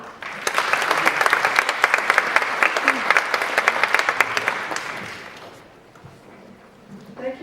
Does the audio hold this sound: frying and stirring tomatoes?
no